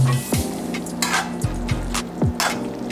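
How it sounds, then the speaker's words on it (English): A spoon stirs Jamaican curry chicken feet in a pot over a medium heat, giving soft scraping strokes and light clanks at an irregular pace over a low steady sizzle. "Now mix that in here."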